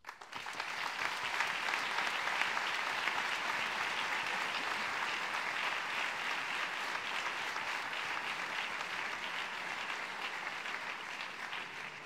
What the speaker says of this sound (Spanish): Así que pido para ellos un aplauso.